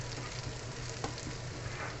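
Minced beef frying in a pan with garlic, a dense, even sizzle that holds steady throughout with a faint clink of utensils partway through.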